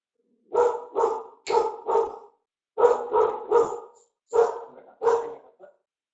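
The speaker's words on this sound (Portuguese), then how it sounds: "ela está latindo aqui, está causando, está atrapalhando o curso" A dog barks loudly and close by in eight sharp barks, grouped in pairs and short runs with brief pauses, during an online training course for dog trainers, with no talk over it.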